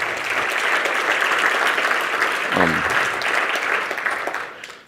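Audience applauding student actors after a performance of Peter and the Starcatcher, loud sustained clapping with a brief voice partway through, tapering off at the end.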